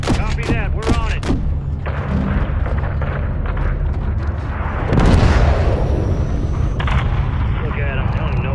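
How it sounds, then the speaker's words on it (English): Missile strike on a SAM site in Call of Duty: Modern Warfare III, a heavy explosive boom with a rumbling tail about midway through, set against game music and radio-style voices. "Drop a missile on that SAM site. Good impact. Target destroyed."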